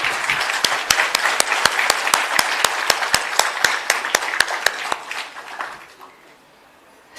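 Audience applause for the Chief Minister of Uttarakhand at a student encouragement ceremony, dense steady clapping from a large crowd for about five seconds, then quickly fading out.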